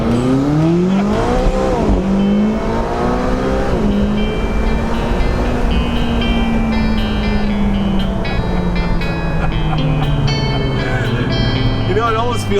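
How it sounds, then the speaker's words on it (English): A two-wheel-drive McLaren 570S accelerating hard, its engine note loud and close as it climbs in pitch, drops at a shift, then keeps pulling in a long sustained howl. "This car accelerates so hard, it gives you tunnel vision"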